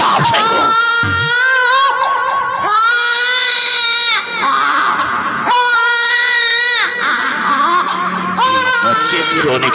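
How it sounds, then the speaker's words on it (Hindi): An infant cries loudly and continuously in wailing, sobbing bursts, close by, with brief gasps between cries and no other sounds competing. "बच्चे की रोने की आवाज आ रही है"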